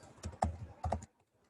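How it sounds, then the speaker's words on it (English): Brief quick typing on a computer keyboard: two small clusters of crisp, close key clicks, then quiet. "So let me just type in digits."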